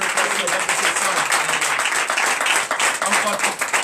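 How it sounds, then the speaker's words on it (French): A church congregation at a Sunday service claps loudly and steadily in dense, continuous applause, with voices mixed in through the clapping. "je vous demande d'applaudir très fort tout le personnel de ce centre."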